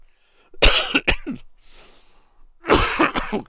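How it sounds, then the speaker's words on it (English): A person on a live broadcast coughs in several sharp, harsh bursts: a pair of close coughs, a pause with faint breathing, then another loud cluster, close to the microphone. "I know you're not supposed to cough on the air"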